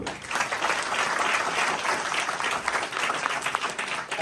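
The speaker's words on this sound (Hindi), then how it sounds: "एक दफा जोरदार तालियां दो।" Loud applause fills a church during a sermon, a dense wash of clapping from the congregation that holds strong and steady for several seconds with no talking.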